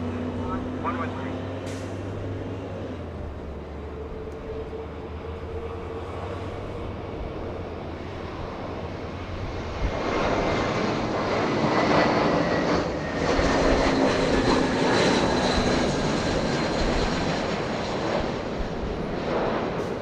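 Jet engines of an Airbus A330 airliner at Los Angeles International Airport, a sustained roar that grows louder and broader partway through, with a person talking over it.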